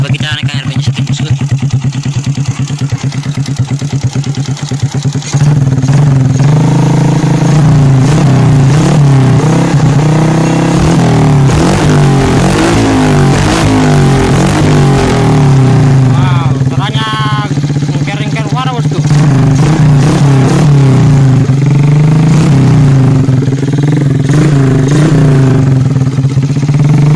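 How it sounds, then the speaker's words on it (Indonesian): Suzuki Shogun 105R motorcycle fitted with a BSS jigsaw exhaust, idling with a steady buzzing drone, then revving loudly and repeatedly through the middle before settling back to a close, continuous idle; a voice speaks over parts of it. "ini saya cek lagi karena pot BSS model jigsaw di motor Shogun 105R"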